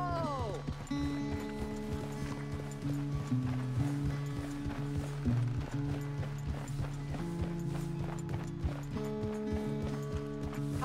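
Horse hooves in Red Dead Redemption 2, a rhythmic clip-clop of a riding horse beneath a swelling music score, with a snort or whinny and voices talking over parts of it.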